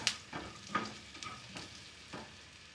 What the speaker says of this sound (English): add the coriander seeds and again saute it for few seconds